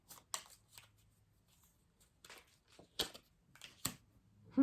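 Tarot cards being handled to pick a card, with several quick riffling shuffles and crisp flicks separated by short quiet gaps, close and soft.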